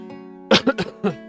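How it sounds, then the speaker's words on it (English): A short burst of several quick coughs close by, over a low steady electrical hum. "If you hear me coughing in the background"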